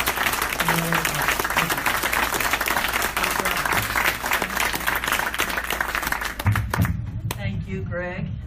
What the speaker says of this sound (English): a nice round, warm of applause for our panel